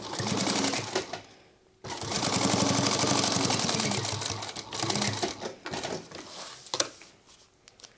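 Sewing machine top stitching a sling crossbody bag seam 1/8 inch from the edge: several bursts of fast, rattling stitching, close and loud, broken by short pauses and ending in shorter stop-start runs.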